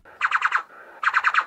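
A LEGO interactive brick moved around on Luke's X-Wing gives two short bursts of four quick electronic blips each, bright and close, separated by a brief pause.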